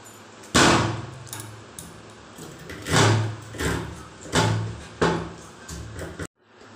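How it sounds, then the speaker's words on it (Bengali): Knife chopping through a hilsa fish on a board while preparing it for fish fry, heavy thuds repeating every second or so, close and loud, with sharp clacks between strikes. "তাই চলো আগে মাছটা কেটে নিই"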